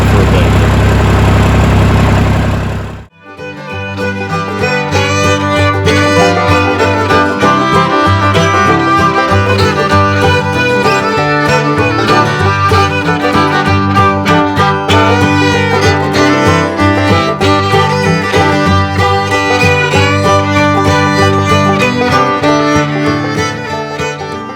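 A Ford L9000 truck's diesel engine, started cold, settles into a loud, steady, rumbling idle with a dense, even clatter that runs on uninterrupted for over twenty seconds.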